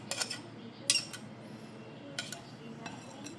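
Butter is mashed into a cheesecake bar crust mixture for snickerdoodle cheesecake bars, giving soft scraping and a few sharp clinks of utensil against bowl, quiet and close.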